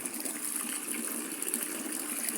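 A strong stream of water gushes steadily from a hose into a swimming pool, a continuous hissing rush with no pauses and no talking.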